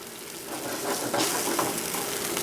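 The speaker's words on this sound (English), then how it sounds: "You hear it searing." Loud continuous sizzling of a filet searing in a hot pan, crackling and hissing up close with a few brief pops.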